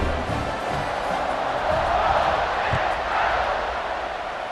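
A stadium crowd in a college football video game keeps up a continuous, swelling roar of cheering at kickoff, loud and sustained, with a commentator's voice faintly under the noise.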